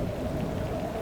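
A heavy rainstorm with thunder pours down steadily, a dense, loud wash of rain noise with deep rumbling underneath, continuous and without any voices.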